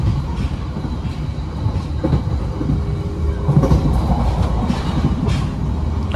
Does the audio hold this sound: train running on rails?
yes